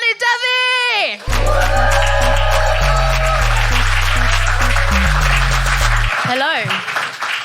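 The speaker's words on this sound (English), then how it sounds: "please whoop and cheer and clap and stomp as we welcome to the stage Shivani Devi" A comedy club crowd bursts into loud, sustained applause and cheering as a stand-up comedian is welcomed to the stage, with thumping music pulsing underneath the clapping throughout.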